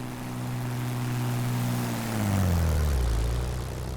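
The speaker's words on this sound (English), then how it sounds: "Just got buzzed by an X-15 with a piston engine." Piston-engine aircraft resembling an X-15 buzzing past in Microsoft Flight Simulator, a loud droning engine whose pitch falls sharply as it sweeps by close, with no talk.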